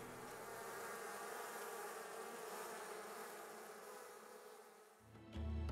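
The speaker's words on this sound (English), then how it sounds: "we're outside playing around with the bees" Bees buzzing outdoors in Arizona, a steady dense drone that holds evenly before a louder, closer rustling swell near the end.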